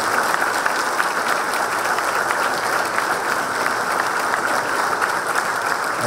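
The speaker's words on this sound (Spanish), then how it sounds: "Así que un aplauso para ellos." Sustained applause from a crowd at the opening of a recycling plant expansion in San Francisco de Bellocq, dense steady clapping at even loudness throughout with no speech.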